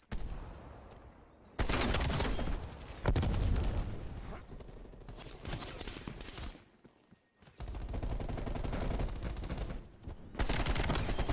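Rapid bursts of AK rifle fire from Call of Duty: Black Ops Cold War ring out loud and close across several volleys, with brief lulls between the sustained strings of automatic shots.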